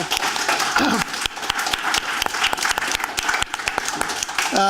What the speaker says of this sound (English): I suggest we give applause to the group